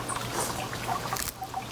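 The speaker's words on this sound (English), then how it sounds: "it's not a big splashy water feature, but it's nice" Water trickles steadily in a small, gentle garden water feature, a soft continuous dribble with no big splashes, heard alone at moderate distance.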